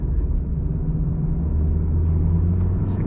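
Steady low engine rumble of a Maruti Baleno 1.2 car driving in second gear on a Karnataka road, a constant hum from inside the cabin with no talking.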